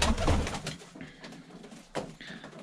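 Broad-tailed Baku pigeons give soft coos close by, followed by a few scattered thuds and rustles and then a second coo.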